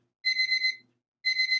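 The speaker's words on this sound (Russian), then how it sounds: "Зазвонил тебе этот будильник." An alarm clock rings in two clean electronic beeping bursts separated by a short gap, loud and close in an otherwise quiet room.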